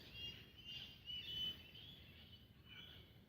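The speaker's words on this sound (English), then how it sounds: "Hear the birds." King parrots and other birds chirp faintly in the distance, with a few thin high calls over a soft outdoor background and no talking.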